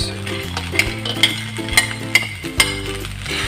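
Fried rice with egg, vegetables and squid balls being stirred in a pan, with repeated sharp metallic scrapes and clacks of a spatula over a steady low sizzle, close and fairly loud, no talking.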